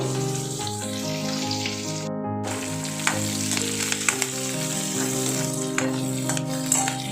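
Green chilies and mint leaves fry in a pan for mint pulao, giving a steady close sizzle with faint stirring clinks and a soft musical hum underneath.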